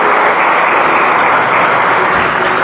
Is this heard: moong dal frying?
no